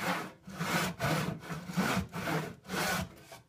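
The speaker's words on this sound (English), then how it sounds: "the board that I'm going to be cutting so that when I make my cuts, it will be square" Someone works a hand saw through a wooden board in steady back-and-forth strokes, about two per second, each a close, rasping scrape with brief pauses between pushes and pulls.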